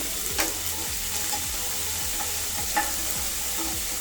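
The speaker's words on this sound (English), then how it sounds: "So let us add the 2 tablespoons of ginger garlic paste and fry it till the raw flavor goes away on a medium heat." Ginger garlic paste fries over medium heat in a pan for a curry, giving a steady soft sizzle with faint scraping stirs now and then, close and continuous with no talking.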